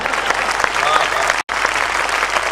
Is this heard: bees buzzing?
no